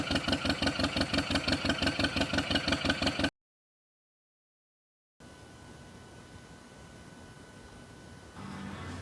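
A rebuilt vehicle engine with a new head gasket, running for the first time, loud with a steady rhythmic pulsing, then cut off by a gap of silence and followed by a fainter steady hum.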